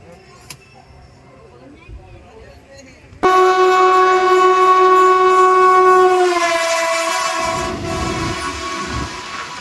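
A crowded Indian passenger train's horn blares loudly and sustained, then fades into the steady rumble and clatter of the moving train, with faint voices early on.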